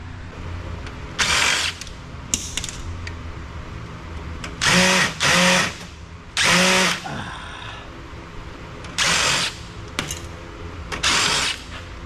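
Power driver backing screws out of a large office copier being scrapped, several short whirring bursts, each lasting about a second, close and loud with quiet gaps between them.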